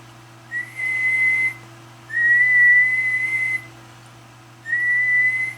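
Three long, steady whistled tones at one pitch into a radio microphone driving a Demco 750 amplifier, each held for about a second or more with short pauses between, over a constant low electrical hum.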